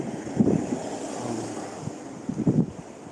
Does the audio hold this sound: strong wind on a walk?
yes